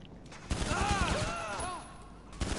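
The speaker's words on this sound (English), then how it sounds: "He's shooting them" Rapid gunfire bursts in a PS4 shooter game, sharp repeated shots under a player's excited talking.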